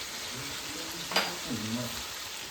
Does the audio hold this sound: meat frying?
yes